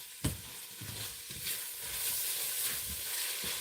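Minced onions hit a hot pan with a sharp initial crackle, then settle into a steady close sizzle and hiss that swells slightly as they cook, alone without talk.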